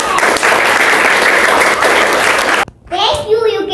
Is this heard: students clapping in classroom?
yes